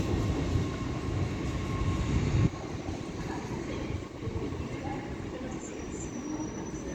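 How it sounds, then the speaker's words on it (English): An LNER 225 set from Leeds to London King's Cross rumbles into Doncaster station on the East Coast Main Line, a loud, steady rolling drone with wheel noise and a faint high squeal toward the end, no talk. "And now coming in is an LNER 225 set from Leeds to London King's Cross."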